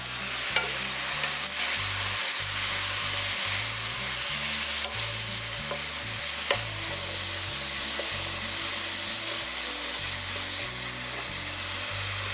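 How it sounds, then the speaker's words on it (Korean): Sliced burdock sizzles and crackles as it is stir-fried in a reducing sauce in a pan, a steady close frying hiss with occasional scraping stir clicks and no talk. "우엉이 살짝 볶아지면 만들어놨던 소스를 넣고 소스가 최대한 졸여질 때까지 타지 않게"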